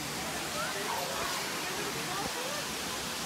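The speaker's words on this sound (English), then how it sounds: "It's a little waterfall." Steady rushing water from a small waterfall in Hocking Hills pours and splashes continuously, a broad wash of noise close by with faint voices in the background.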